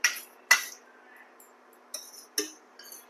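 A pot lid is set over a pan of chicken pulao, giving several sharp metallic clinks and taps spaced a second or so apart, close by, with quiet gaps between them.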